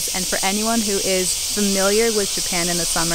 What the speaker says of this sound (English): It's the sound of thousands and thousands of cicadas in the trees.